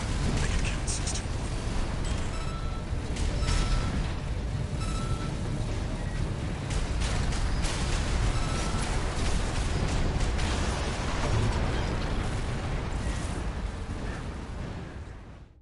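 Continuous heavy combat din from the mech action game Armored Core 6, with dense, overlapping explosions on the ground bursting loudly and steadily throughout, a thick rumbling wash without pauses.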